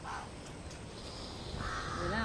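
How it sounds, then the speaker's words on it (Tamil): A crow caws twice, a short call at the start and a longer, louder one near the end, set against steady outdoor noise with faint talking in the background. "காக்கா கத்துதுங்க, சாப்பாடு போடுவோம்னு நினச்சேன்."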